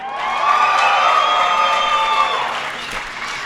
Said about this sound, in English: How many of you guys out there are cheering for the green wall today?